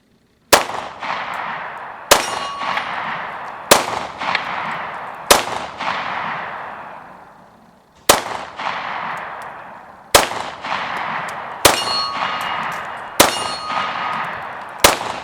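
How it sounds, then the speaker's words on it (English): An FMK 9C1 pistol fires Hornady XTP 124-grain hollow points, about nine sharp, loud reports in an uneven rhythm, each ringing out briefly before the next, with a two-second gap midway and no talk. "Hornady XTP 124 grain hollow points."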